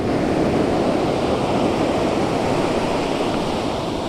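Waves roll onto the shore at Filey as a continuous, loud surf roar with some wind rush, and no one speaks over it.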